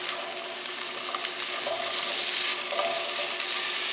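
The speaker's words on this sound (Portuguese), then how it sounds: "Refogando, mexendo sem parar, tá, meus amados? Não pode parar, não. Porque senão queima o quiabo." Okra sautés in a pan with a constant close sizzle and frying crackle, while soft scraping stir sounds run underneath the whole time, with no speech.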